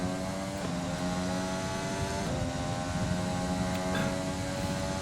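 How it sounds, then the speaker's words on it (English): An F1 race car engine in the F1 2020 video game, on a race at Silverstone, screams at high revs, its pitch climbing and dropping through quick gear shifts in a steady run. "But listen to my engine, it maxes out so early."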